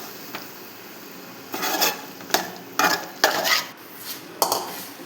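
Prawns are stirred in a hot pan, with a spoon scraping and clinking against the metal in several short, irregular strokes over a faint sizzle. Nobody speaks.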